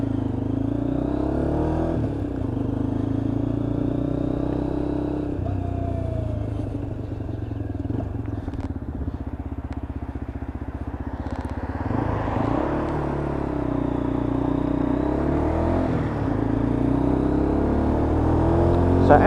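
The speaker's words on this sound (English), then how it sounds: "So we're just going to fire this one up, take it out on the road" A Lexmoto LXR motorcycle engine idles and rumbles, then revs and pulls away onto the road, steady and close with a brief rise in revs partway through.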